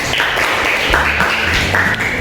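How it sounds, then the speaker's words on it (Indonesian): Classroom applause for classmates, a steady patter of many hands clapping continuously at moderate loudness with no pauses. "Tepuk tangan buat teman kalian."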